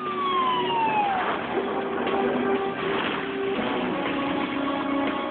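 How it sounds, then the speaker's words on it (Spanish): An ambulance siren wailing with a falling tone, then steady tones through dense, noisy background rumble, fairly loud and continuous. "Minutos después, una ambulancia lo lleva al hospital."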